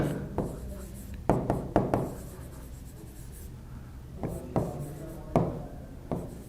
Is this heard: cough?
no